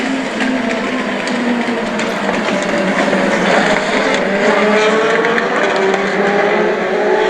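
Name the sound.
US Legend race cars racing at New Hampshire Motor Speedway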